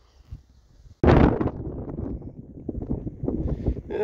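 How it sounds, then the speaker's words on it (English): Wind gusts buffet the microphone in heavy low rumbling bursts on a hilltop near the summit of Garn Fadryn, starting suddenly after a quiet second and continuing strongly throughout. "Quite windy, so it could be really windy at the top."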